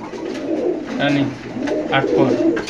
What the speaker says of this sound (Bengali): দর্শক আপনার এই মুহূর্তে দেখতে পাচ্ছেন এখানে এক প্যার হেলমেট কবুতর